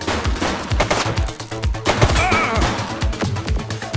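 Dense gunfire in the police mod LCPDFR: rapid bursts of sharp shots layered into near-continuous automatic-style firing, loud and close, with no talk.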